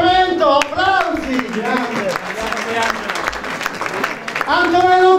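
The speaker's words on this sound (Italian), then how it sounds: "Luca Sorrento, applausi" An audience applauds at an Italian festival stage event, steady clapping throughout under a presenter's loud voice, with a musical tone rising behind it at the start and end.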